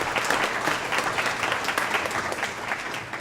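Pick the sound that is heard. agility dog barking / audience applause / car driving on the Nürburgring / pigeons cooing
audience applause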